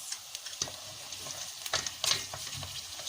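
Tomato and pepper paste fries with garlic in a pan, making a quiet sizzle with scattered spoon scrapes and small knocks that grow busier toward the end.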